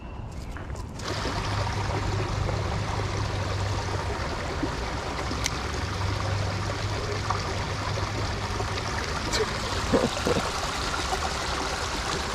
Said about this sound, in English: There's a hole where this water is trickling into